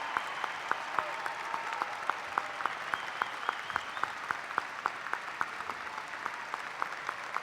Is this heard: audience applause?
yes